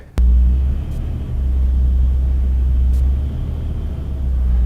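A truck pulls up onto a BLESS system setup, its engine a loud, steady low rumble close by that starts abruptly and holds throughout with slight swells.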